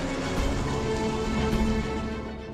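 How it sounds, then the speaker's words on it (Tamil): Heavy storm rain pours at night, a loud, continuous wash of noise with a faint sustained tonal backing beneath it and no voices. "அன்று இரவு புயலும் மழையுமாக இருந்தது."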